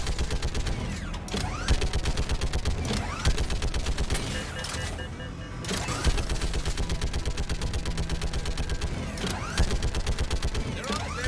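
Rapid automatic gunfire in Mass Effect Legendary Edition, long rattling bursts of closely spaced shots with brief gaps and mechanical clacks, loud and continuous over several seconds.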